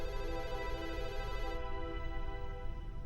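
A telephone rings steadily in an indoor scene of an Indian drama series, a continuous electronic tone with no talk over it.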